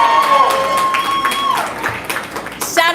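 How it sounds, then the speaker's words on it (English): A live Chicago audience claps and cheers in a dense, steady wash of applause, with a voice briefly carrying over the crowd noise. "And clap it up for yourselves because y'all look damn good."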